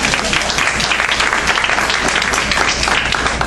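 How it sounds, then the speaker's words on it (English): An audience at a community forum bursts into dense, sustained applause, loud and even throughout with no break in the clapping. "Round of applause for David."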